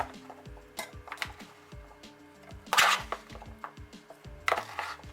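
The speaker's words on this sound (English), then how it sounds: "So I'm just going to put all this in the blender." Chopped bell peppers tipped into a small kitchen blender for a Jamaican beef patty seasoning, giving a string of light clinks and knocks, with sharper clattering bursts near the middle and the end, close and fairly quiet.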